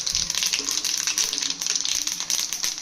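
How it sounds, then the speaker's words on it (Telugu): Tempering spices crackle and sizzle in hot oil for a spicy gongura pandu mirchi chutney, a dense, steady frying hiss dotted with small pops and spits close to the pan. "ఆయిల్ హీట్ అయిన తర్వాత పోపు దినుసులు వేసుకుందాం."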